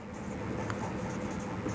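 Chalk or marker scratching steadily on a board during a Class 10 geometry lesson on similar triangles, close and fairly quiet, with no talking.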